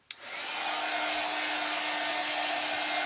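A hair dryer clicks on and settles into a loud, steady, close whoosh with a constant motor hum while it dries a wet flexible resin piece, and no one talks.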